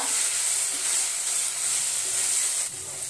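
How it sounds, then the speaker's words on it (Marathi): Turmeric and coriander powder sautéing in hot oil for an okra bhaji, a loud, continuous close-up sizzle and hiss that eases slightly toward the end, no talking. "धनिया पावडर आपण 1 चमचा टाकून घेतलेली आहे। दोन्ही आपण परतून घेऊया।"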